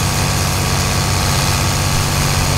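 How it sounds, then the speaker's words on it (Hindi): Sonalika 60 DI tractor engine running at full speed in Farming Simulator 22, pulling a big sugarcane trolley; a loud, steady low rumbling drone that holds constant with no speech. "अब देखो इस गियर में जो ट्रैक्टर पूरी रफ्तार में चल रहा है और आरपीएम भी नहीं टूट रहे हैं"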